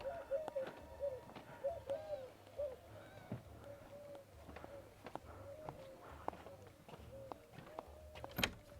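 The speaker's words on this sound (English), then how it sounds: "There's all these animals and birds here making noises." Soft, repeated cooing from pigeons or doves, fairly close, with occasional clicks and a brief sharp sound near the end, at a desert resort.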